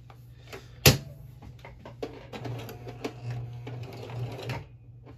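A home sewing machine running a triple stitch in short whirring, clicking bursts, starting with one sharp knock and then a few seconds of quick mechanical stitching, close and fairly quiet.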